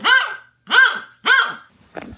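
A dog gives three loud, harmonic barks at an even pace indoors, followed by a short softer rustle at the end.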